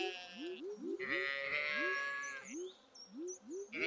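Farm sheep in the Stardew Valley video game let out a run of short rising bleats, several in quick succession, over a bright sustained tone and chiming notes of game music.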